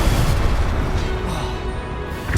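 Confringo spell blast in the Hogwarts Legacy video game, a loud broad rumbling explosion filling the moment, the roar slowly decaying over a couple of seconds.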